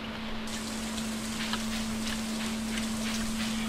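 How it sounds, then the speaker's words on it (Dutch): Steady rain falls on the farm in Stardew Valley, an even hiss of patter that continues unbroken at moderate volume, with a low constant tone running underneath. "Het regent."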